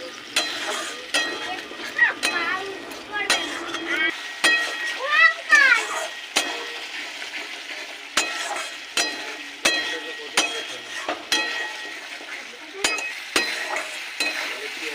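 Curry masala fries in oil for matar paneer, sizzling under regular clinking strokes of a spoon against the pan. A voice is faintly heard in the background.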